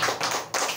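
Hands clap during a Christian Friday worship and prayer service: a couple of sharp, close claps in quick succession, with no talking.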